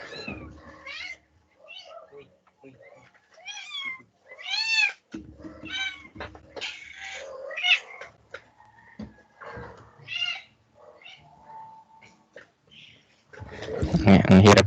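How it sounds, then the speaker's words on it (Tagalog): Cats meow repeatedly in rising, wavering cries while squabbling over a kitten, close and loud, with scuffling noises and a person speaking between the calls. "Ang hirap maging nurse ng pusa. Nag-aagawan sila ng anak."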